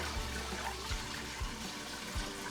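Used beer line cleaner from a cask widget cleaning job poured down a drain, a steady broadband rush of liquid running throughout with a few low gurgles, close and continuous, with no talk.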